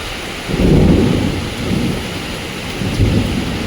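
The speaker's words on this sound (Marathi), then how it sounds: "अचानक पावसाचं वातावरण तयार झालं आणि जोरदार पाऊस पडायला लागलेला आहे" A sudden heavy downpour on Gangapur Road, with steady loud rain hiss and low rolling thunder swelling and fading over it, no voices.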